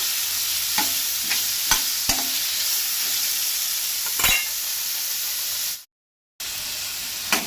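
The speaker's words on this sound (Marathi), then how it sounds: "अननसाच्यो फोडी घातल्यो काय ना 2 मिनटां बरें परतून घेवपाक जाय" Pineapple pieces sautéed and stirred in a pan for a Goan vegetarian thali, giving a steady sizzle and hiss broken by several sharp scraping stirs of a spoon against the pan, with a brief drop to silence near the end.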